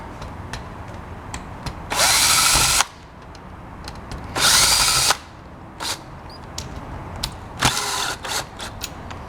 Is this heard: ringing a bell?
no